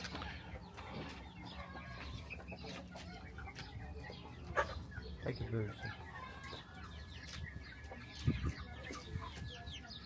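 Chickens and American roosters cluck and call in a farmyard, a scattered, uneven chorus of near and farther birds with a couple of louder squawks, while people talk intermittently over them.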